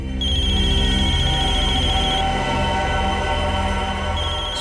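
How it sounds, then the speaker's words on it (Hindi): A mobile phone ringtone plays loud and close, a sustained electronic melody with a bright held tone that breaks off briefly midway and then resumes, sounding alone without talk. "इसमें तो मोबाइल के रिंगटोन जैसा कुछ बजा है"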